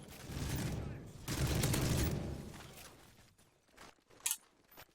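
Video game gunfire in Modern Warfare 3 as walls are shot, a dense burst of rapid shots followed by scattered quieter impacts and one sharp crack near the end, with talk faintly under it.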